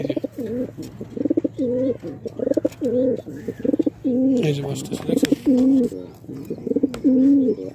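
Domestic pigeons at a breeding farm coo in a repeated, rhythmic series of throaty calls close to the listener, with someone briefly speaking over them.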